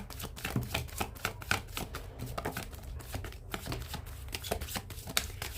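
Tarot cards riffled and shuffled by hand, a steady run of crisp papery flicks and slaps continuing without pause, close and moderately loud, with no voices over it.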